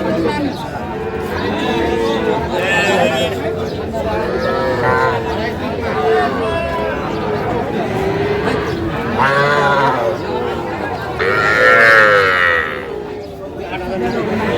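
Young bull calves moo repeatedly at a busy cattle market, loud and close over constant crowd chatter and a man calling out prices.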